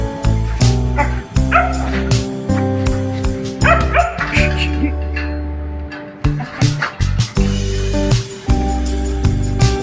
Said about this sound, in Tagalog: yung mga aso, oh.